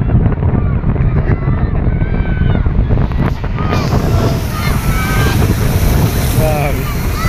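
Heavy storm waves pound a Philippine shore during a typhoon, a loud, unbroken roar of surf mixed with gusting wind noise on the microphone. Voices can be heard faintly under the din.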